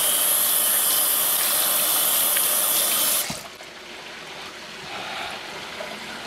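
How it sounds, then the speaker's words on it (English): A kitchen tap runs hard into a sink for a few seconds as hands are washed under it, then the flow is cut back to a softer trickle and splash. The sound is close and continuous, with no speech. "Let's go ahead and wash my hands."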